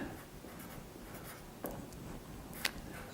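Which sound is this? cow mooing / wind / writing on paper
writing on paper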